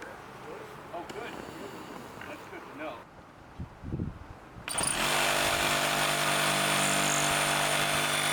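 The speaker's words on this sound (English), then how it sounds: "So I'm going to cut down the rafter and these couple boards." A power tool cuts through a roof rafter and several boards during a cottage cutout, starting abruptly midway as a loud, steady whine and roar that holds to the end, preceded by quieter handling noises and voices.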